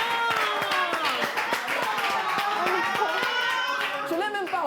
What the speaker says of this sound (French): Est-ce qu'on peut applaudir champion, s'il vous plaît?